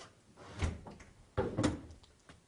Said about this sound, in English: So when you're opening and closing the door,